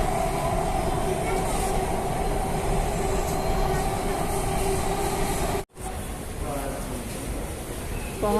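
A metro train arrives at a station, with a continuous loud rumble and rolling wheel noise of rail cars close by, briefly cut off and then resuming.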